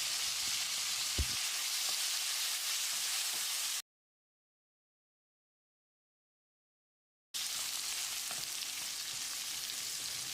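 Vegetables sauté with turmeric powder in a pan with a steady, hissing sizzle that cuts to silence for a few seconds, then resumes.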